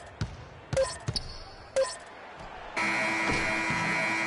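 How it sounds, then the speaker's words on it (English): Loud, sustained end-of-quarter buzzer in the NBA 2K16 basketball video game, kicking in after a few sharp ball bounces and squeaks and then holding steadily to the end. "it is good at the buzzer"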